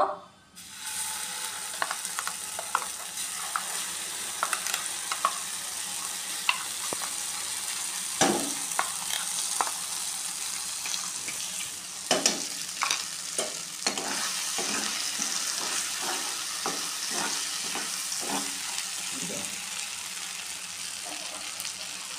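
A ground spice paste for butter paneer fries in a pan, giving a continuous hiss and sizzle with repeated scraping and clinking strokes of a spoon as it is stirred, close by.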